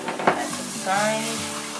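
Spoon stirring a roux blended with milk in a pot for homemade mac and cheese: close, wet scraping and swishing with a faint sizzle, continuous and fairly loud.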